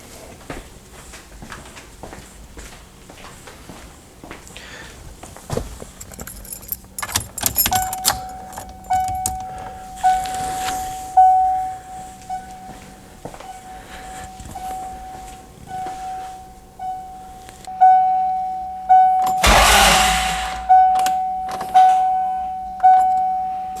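A vehicle with a weak, failing battery, key switched on and then the starter cranking: keys jingle and clatter over a soft electronic tone, then slow, laboured cranking pulses repeat steadily near the end without the engine catching.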